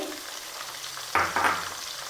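Garlic dropped into hot oil for a lemon and dates pickle: a soft background sizzle that bursts into louder, crackling frying halfway through, then settles into steady sizzling.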